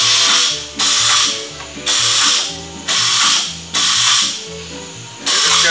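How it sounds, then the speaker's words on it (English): Flange tool crimping a stepped edge into sheet metal during rust repair on a 1969 Volkswagen Karmann Ghia, giving five loud, evenly spaced ratcheting clamps with sharp metallic bursts, each followed by a brief pause. "take your flange tool just like you see, and you're going to follow that line"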